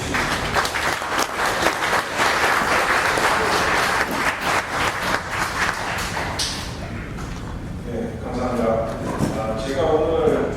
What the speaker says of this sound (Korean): 먼저 부용 박사를 큰 박수로 맞이해 주십시오